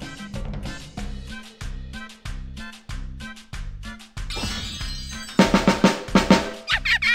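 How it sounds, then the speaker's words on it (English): Upbeat music from a Sesame Street Wii video game, with a snare drum struck in short repeated bursts over a steady low beat, then louder, denser hits near the end. "Yay! A snare drum."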